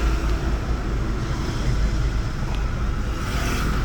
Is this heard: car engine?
yes